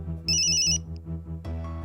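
Telephone ringing in a Hindi TV serial scene, an electronic ringtone in short repeated bursts with a tonal pattern, close and clear, followed by a brief different tone at the end.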